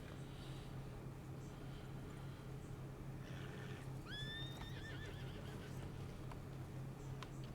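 In the Red Dead video game, a horse gives a clear, rising whinny in answer to a whistle. Its hooves clop under steady outdoor ambience, and the call is moderately near.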